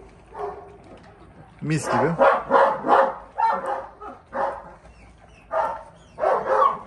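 Puppies being fed bark and yip in short repeated bursts close by while a person talks over and between them.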